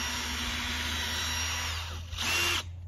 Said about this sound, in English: So I'm just using this drill to kind of waller it out a little bit.